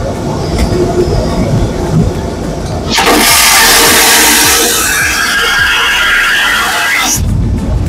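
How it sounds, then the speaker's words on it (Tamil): An airplane lavatory toilet on a Scoot Airlines flight flushes with a sudden loud vacuum whoosh that holds for about four seconds, then cuts off abruptly, set against steady cabin rumble. "இது ஃப்ளஷ் பண்ற சவுண்ட் மட்டும் எப்படி வருதுன்னு பாருங்க"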